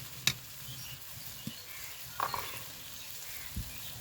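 Spice paste (masala) fries in oil after a splash of water, giving a faint, steady sizzle broken by a few soft stirring clicks and taps.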